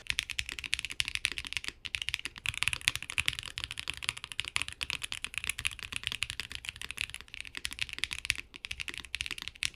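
Rapid, steady typing on a Wind Studios Sin 65 mechanical keyboard, close and crisp, with dense clacking keystrokes and no talk.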